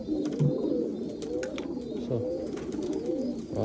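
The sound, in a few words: pigeon cooing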